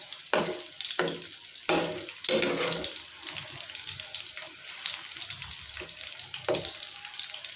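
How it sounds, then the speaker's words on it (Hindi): Beef mince masala kebabs fry in a hot pan with a loud, steady crackling sizzle, broken by sharp pops and spatters close by, and no voices. "अब दूसरे डाल दूँगी मैं कबाब, सेम उसी तरह ये भी फ्राई करूँगी।"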